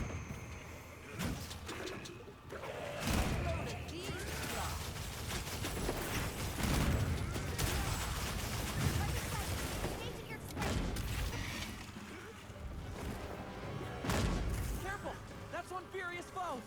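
A Gunlance combo in Monster Hunter Wilds, with dense bursts of explosive impacts and shelling blasts that repeat across a loud, busy stretch of game action.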